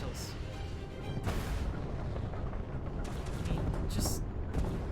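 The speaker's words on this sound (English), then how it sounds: "Just some of the shots there with the freaking planet in the background, you're shooting" Booming shots and explosions in a space battle in a Bethesda space game, a dense, rumbling barrage of heavy blasts throughout, with a voice speaking over it.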